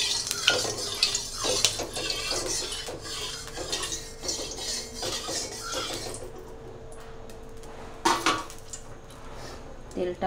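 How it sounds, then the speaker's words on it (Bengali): A spatula stirs hot oil in a pan on a gas flame while cooking eggs, giving repeated scraping clinks and soft sizzling; a person talks intermittently throughout. "খুন্তিটা দিয়ে তেলটা একটু নাড়িয়ে নিই।"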